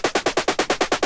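A Synplant 2 synthesizer step sequencer pattern: eight evenly spaced, punchy plucked notes repeating at a steady quick tempo, loud and alone.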